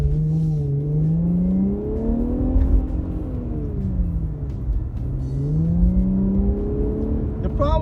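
A car fitted with a Pedal Commander throttle controller accelerating on an open road: a loud engine drone rising and falling through the gears, heard close from inside the car.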